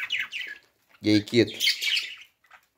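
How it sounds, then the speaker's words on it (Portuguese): Pet birds in an aviary give short, high chirps and a sharp squawk near the microphone, and a person speaks briefly amid the calls. "Aí as outras aves que estão aqui"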